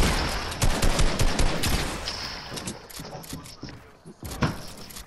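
Rapid bursts of gunfire from the video game Fortnite crackle in quick volleys, mid-loud, with mechanical clicks and clatter between shots and a brief pause before more firing.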